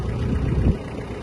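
A Mitsubishi MT-246 Japanese mini tractor engine runs with its rotary tiller raised, a close, low, steady rumble with a brief swell in the middle of the short stretch.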